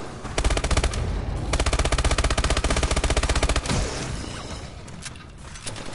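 Automatic sentry turrets fire in Call of Duty Exo Zombies, loud rapid-fire bursts in long unbroken strings with a brief pause between, then tailing off into quieter clatter.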